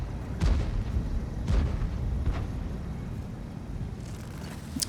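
Artillery shells land in a World of Tanks match as a few deep, muffled booms about a second apart, the last ones fading under a steady low rumble of engine and battlefield noise.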